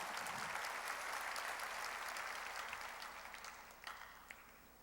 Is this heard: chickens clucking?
no